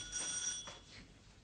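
An old-fashioned telephone bell rings at the start of a comedic police appeal segment and then fades. The ring comes as a bright, loud trill over a faint background.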